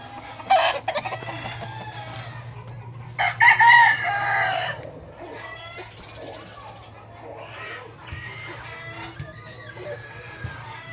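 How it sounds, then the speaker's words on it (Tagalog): A gamecock rooster crows loudly nearby amid some clucking, with people talking in the background throughout. "yung tumalo kay manok ni Edwin Tusi"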